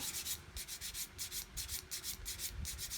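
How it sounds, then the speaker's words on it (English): A flat sanding stick rasps steadily back and forth across a plastic model aircraft wing, a close, soft, rhythmic scratching with quick regular strokes and no voices. "I just come in with a flat sanding stick and start to sand"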